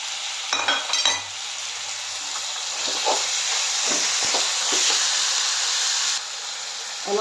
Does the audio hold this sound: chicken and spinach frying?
yes